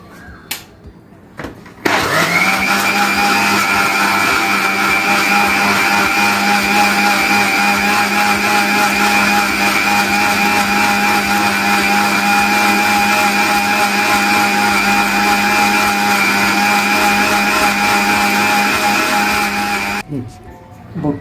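An electric mixer grinder runs steadily for about eighteen seconds, blending pomegranate seeds with sugar, salt and squeezed lemon into juice. Its loud, even motor whine starts abruptly and cuts off near the end.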